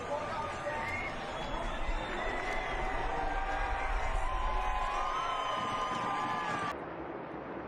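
Dense crowd roar and cheering at a NASCAR Cup Series championship race finish, a steady loud swell of many voices under general babble that drops off sharply near the end.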